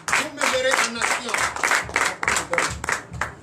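A church congregation at a Sunday service in Benin claps in rhythmic bursts, the applause rising and falling in pulses with voices mixed in among the clapping.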